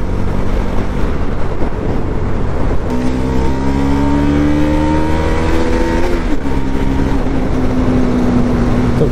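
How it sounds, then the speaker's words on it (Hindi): A car engine roars at full throttle on an open mountain road, loud and close, with rising pitch as it accelerates, a gear change midway, then climbing again. "एक्सीलेटर तो भाई मेरा पूरा फुल खोल रखा है"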